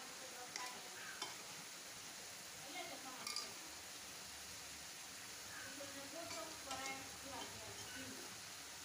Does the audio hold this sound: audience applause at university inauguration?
no